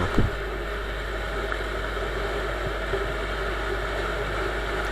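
A Viper 150/200 Chinese motorcycle running at speed, its steady engine drone mixed with heavy wind rush, loud and continuous without pause.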